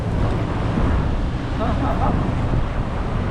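Rough sea waves surge onto a beach at a small town on France's southern coast, a steady loud roar of surf and wind buffeting throughout.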